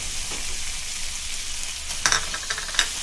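Green chillies sizzle in hot oil in a pan of cooked chicken for a Konkani chicken saroley, a steady close frying hiss with a few sharp stirring clinks near the end.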